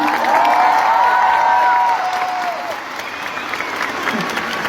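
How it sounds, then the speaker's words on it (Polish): Concert crowd applauding and cheering the paramedics, loud claps with scattered shouts and whistles, easing to a lower level partway through as voices carry over it. "wielkie brawa dla panów ratowników"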